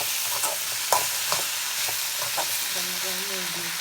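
Okra frying with turmeric and chopped chili, giving a steady close sizzle with a few sharp stirring scrapes and clinks; near the end a faint steady tone runs underneath.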